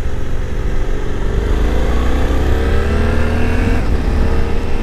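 A Suzuki V-Strom 800 DE motorcycle ridden on a road through Mammoth Cave National Park, its engine droning steadily and loudly with a rising tone as it accelerates, mixed with wind rumble, no talk.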